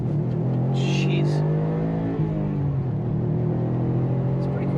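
A Subaru STI all-wheel-drive car accelerates hard with a loud, steady engine roar and a rising pitch heard from inside the cabin, while someone speaks over it.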